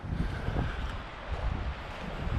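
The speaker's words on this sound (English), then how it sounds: "It's starting to get really windy now" Strong wind gusting through a coastal pine forest on a stormy winter night, a steady broad roar with low rumbling buffets against the microphone, continuous and fairly loud with no voices.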